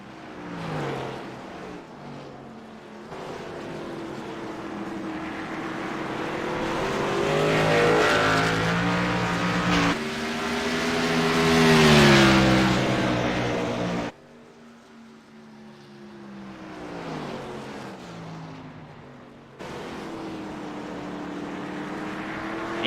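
Race cars in a televised auto race sweep around a hairpin turn, engines loud and close, pitch rising and falling as they brake, turn and accelerate away, with several cars passing in quick succession.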